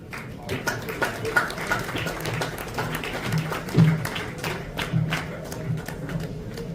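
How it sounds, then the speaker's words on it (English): An audience at an All Goa Muslim Jamat Association award event in Panaji claps for a student award recipient, a dense, steady crowd applause at moderate volume with some thumps and faint voices under it. "Please give a huge round of applause."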